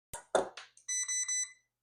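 A multimeter in diode mode beeps on a shorted 12-volt rail of an Xbox Series S, first a few clicks of probe contact, then three short, bright tonal beeps in quick succession.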